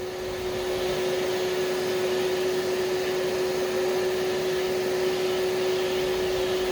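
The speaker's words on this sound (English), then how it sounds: "I will clean up all the dust using a vacuum with a HEPA filter." A vacuum cleaner with a HEPA filter runs continuously, sucking up sanding dust in a bathroom. It makes a loud, steady whine with a constant drone and no pauses or voices.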